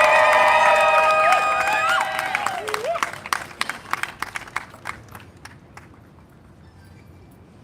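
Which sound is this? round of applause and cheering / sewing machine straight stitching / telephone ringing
round of applause and cheering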